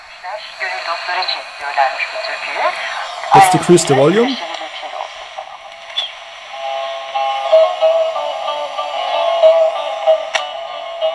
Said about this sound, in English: And we can hear the station.